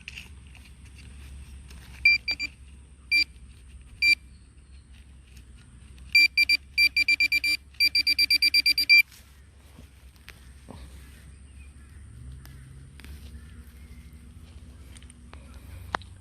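A metal detector beeps over a dug-out plug of soil holding a buried piece of copper pipe: scattered single tones, then rapid bursts of beeps, quiet outdoors with faint rustling and handling noise afterward.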